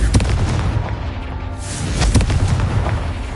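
A Confringo blasting spell in Hogwarts Legacy bursts in a loud, close explosion, with a rumbling boom that swells again after a brief dip and fills the whole moment without speech.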